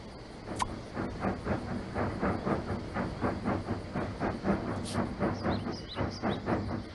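A cartoon passenger train in the Sago Mini School game chugs in a steady, quick rhythm of steam puffs and clacks, with a few bright sparkly chimes over the top.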